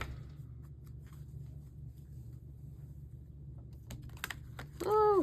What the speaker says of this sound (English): here we go with the chaotic shuffling